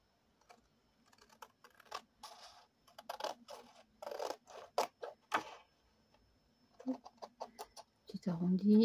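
Scissors snip around the flap of a paper envelope in an autumn-themed craft album, producing a run of short, close crisp cuts in irregular bursts, with a soft voice speaking now and then.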